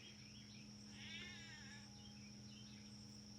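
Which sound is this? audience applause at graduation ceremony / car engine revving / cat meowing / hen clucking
cat meowing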